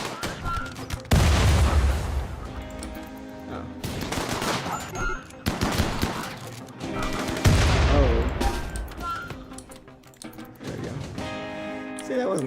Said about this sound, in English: they just threw a frag grenade